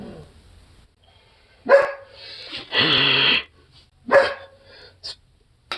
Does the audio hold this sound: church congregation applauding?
no